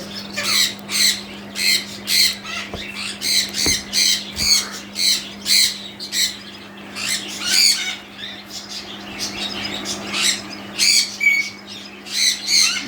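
Breeding pairs of lovebirds squawk and chatter continuously in repeated harsh bursts, a dense flock close by with a steady low hum underneath.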